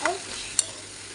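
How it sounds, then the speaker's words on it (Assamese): Fiddlehead fern and potato pieces fry in oil in a pan, a soft continuous sizzle with a couple of brief stirring scrapes, close and fairly quiet, no talk. "এয়া ঢেকীয়া ভাজি দেখিছেনে ইয়াতে তেল দি ঢেকীয়া আৰু আলু দিছোঁ"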